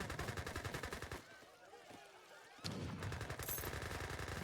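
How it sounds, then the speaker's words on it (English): A Gatling gun fires in a real-time strategy game as it besieges a town center, a dense rapid rattle that pauses briefly and then resumes. A voice can be heard under the gunfire. "Gatling gun's going to be sieging down this TC."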